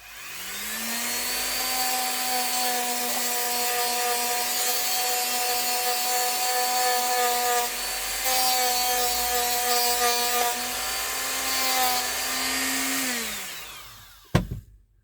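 A small high-pitched rotary drill whirs steadily on 925 silver and resin jewellery for several seconds, its tone wavering slightly as it grinds, then spins down and stops with a click.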